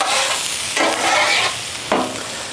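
Pork chops, sauerkraut, apples and onions are stirred across a hot Blackstone griddle, giving a steady loud sizzle broken by two scraping bursts from the spatula.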